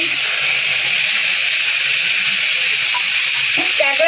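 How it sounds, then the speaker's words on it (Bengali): Crab frying in hot mustard oil gives a loud, dense, continuous sizzle close up, with a few faint clinks toward the end. "আমি সরষের তেল দিয়ে দিচ্ছি পরিমাণ মতো ক্যাকড়া ভাজার জন্যে।"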